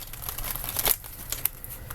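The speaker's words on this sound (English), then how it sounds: "I'm gonna shuffle." Tarot cards being shuffled, a run of soft papery crinkling and riffling taps with one brief louder flurry, close and fairly quiet with no voice.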